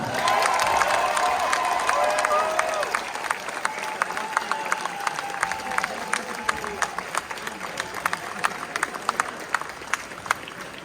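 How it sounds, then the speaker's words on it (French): A crowd cheers and applauds at the RoboCup 2023 Humanoid KidSize robot football final in Bordeaux, with whoops and shouts over steady clapping, then crisper individual claps as the cheering fades, while a voice talks over it. "Et je vous demande de faire une acclamation à l'équipe Robin."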